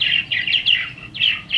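Several purple martins give bright, gurgling chirps in quick overlapping bursts while migrating south, close and fairly loud, with a brief pause midway.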